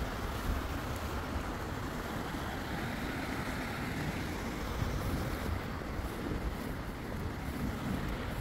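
Floodwater rushes through Inulukan in a constant, dense roar with steady wind buffeting the microphone.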